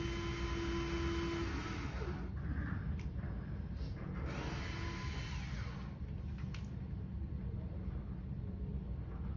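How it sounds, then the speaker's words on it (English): A small power drill pre-drills a screw hole in a wooden picture frame, a steady whirring hum running throughout with faint scraping bits, close and continuous. "what I'm doing now is pre-drilling the hole for the screw"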